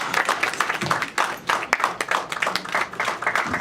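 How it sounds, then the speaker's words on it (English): An audience at a youth safety talk applauds the officers with a round of clapping. The claps come as dense, uneven bursts that rise and fall at moderate loudness. "Can we just have another round of applause for our wonderful officers?"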